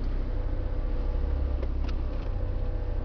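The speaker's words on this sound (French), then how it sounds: "On entend le compresseur qui se met en route." A steady mechanical drone from an air brake compressor starting up hums continuously up close, with a faint hiss and a couple of brief clicks partway through.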